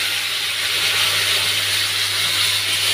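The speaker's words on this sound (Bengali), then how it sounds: "তো ডালটা তেজপাতা দিয়েছি, একটুখানি তেল দিয়ে ডালটা দিয়ে দিচ্ছি।" Dal (lentils) going into a little hot oil with a bay leaf, giving a steady, even hiss and sizzle at close range with a faint low hum underneath, no voices.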